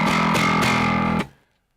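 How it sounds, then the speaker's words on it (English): Heavy, nasty classic fuzz distortion from the BitFuzzer Live plugin with low mids and lows filtered out, a dense buzzing tone struck in a few sustained chords that cut off abruptly into silence. "we'll go for like a classic kind of massive fuzz tone that's a bit nasty"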